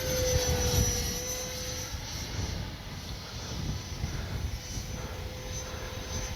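An Arrows RC F-86 64mm electric ducted-fan jet model flies in strong wind, its thin steady whine held at a distance and partly buried under rough, low wind buffeting on the microphone.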